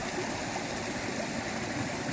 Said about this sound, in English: Further waterfall up the back there.